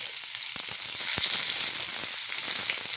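Two small onions frying in hot oil with cumin seeds, a steady dense sizzle with scattered crackles and pops, close and fairly loud throughout, with no talking.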